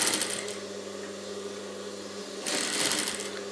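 A sewing machine stitches a yellow stand collar for a princess-cut blouse, its rapid needle chatter running steadily throughout and swelling louder in a burst near the end.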